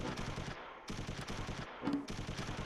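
Close Combat III video game battle with rattling machine-gun bursts and rifle fire, repeated rapid volleys broken by brief pauses, steady and moderately distant.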